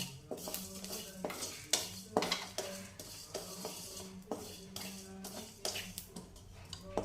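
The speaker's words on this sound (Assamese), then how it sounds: "এইখিনি ভাজি পেলাই" A spoon scrapes and clinks against a pan as ajwain and coriander seeds are stir-fried for pickle, with a faint sizzle. The strokes come in irregular, repeated bursts close by.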